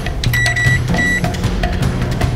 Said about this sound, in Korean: 전자레인지에 1분 30초 이렇게